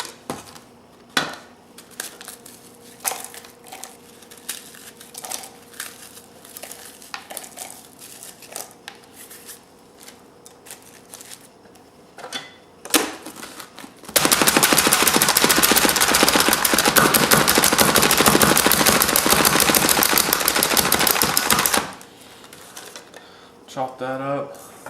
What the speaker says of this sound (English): So I'm gonna just put this in the dicer.